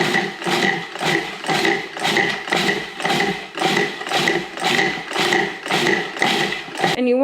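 A food processor pulses cookie crumbs with butter for a pumpkin pie crust, giving about a dozen evenly spaced, loud mechanical whirring bursts in a steady rhythm, with a brief rattle at the end.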